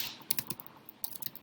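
Typing on a computer keyboard at a desk: a quick, irregular run of light plastic key clicks in small bursts, close and fairly quiet, with no voices.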